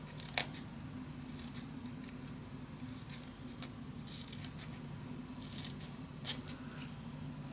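Scissors cut through paper for a scrapbook mini album, giving a few faint, sharp snips spaced several seconds apart over a steady low hum.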